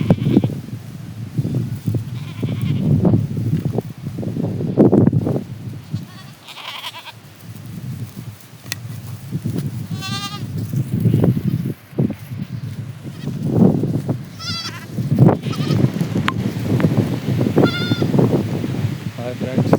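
Goats bleat repeatedly in short calls across a windy village pasture under gathering rain clouds, mixed with steady wind rustle and someone talking over it.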